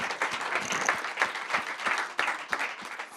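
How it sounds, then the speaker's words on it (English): Indoor audience applauding a panel at a talk event, a steady wash of many hands clapping at moderate distance, fairly soft and continuous without speech. "Round of applause for Zoanne and our panel."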